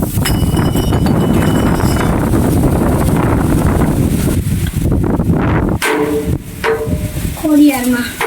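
Strong wind roars and buffets across the microphone on a hilltop at the Tarsingda Khodiyar temple, a loud, continuous low rumble that breaks up toward the end as a few voices come in.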